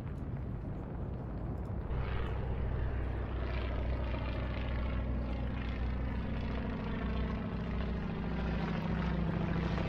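Continuous droning of propeller engines from a Lancaster bomber raid in the Atlantic Fleet naval video game, a steady layered hum that swells slightly after the first couple of seconds, with no talk over it.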